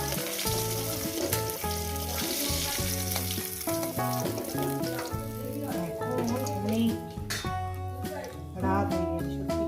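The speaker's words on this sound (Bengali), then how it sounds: "মাছগুলো আমার ভাজা হয়ে গেছে, মাছগুলো আমি উঠে নেবো" Rohu fish frying in hot oil gives a steady close sizzle that runs under loud background music for the whole stretch.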